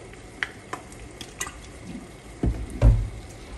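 Tomatoes, onion and serrano chiles fry in oil in a pan with a soft sizzle while a utensil stirs and scrapes, sending out several sharp clacks and two heavier knocks near the end.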